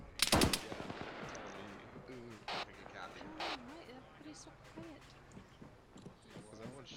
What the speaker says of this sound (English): Because everyone's shooting.